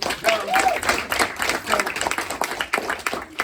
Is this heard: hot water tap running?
no